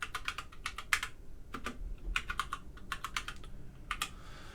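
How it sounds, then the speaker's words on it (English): Quiet bursts of typing on a computer keyboard, clustered runs of crisp key clicks separated by brief pauses, heard close and alone with no voices. "the first thing I'm going to do is type in my keywords."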